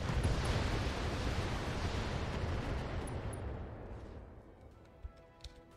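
Mech weapons firing in BattleTech, a dense roaring barrage of blasts and rumbling impacts that slowly fades away, ending with a couple of small isolated pops.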